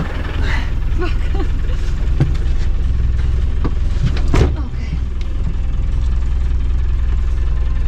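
A car engine idles steadily after its first start following winter, with a low continuous rumble, loud and near, while someone speaks over it.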